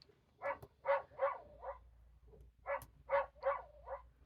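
A recorded dog bark from a children's noisy farm sound book plays twice, each time as a quick run of four yappy barks, clear and close with a short pause between the two bursts.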